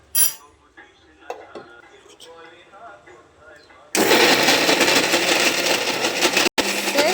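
A kitchen blender mixing an almond shake of almonds, dates, honey and sugar starts abruptly after quiet moments of a clinking utensil and runs loud and steady, cutting out briefly before resuming.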